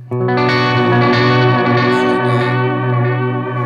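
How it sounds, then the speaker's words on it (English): A loud electric guitar chord sustains with a shimmering, wavering delay and spacious reverb tail, swirling echoes trailing behind the note. "like a slight modulated delay and reverb"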